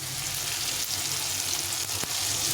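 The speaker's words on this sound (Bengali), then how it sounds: "দিয়ে এটাকে ভালো করে একটু কষিয়ে নেব মশলাটা" Spice paste with tomato fries in a pan, giving a continuous soft sizzle and hiss with one or two faint scrapes of a spoon near the end.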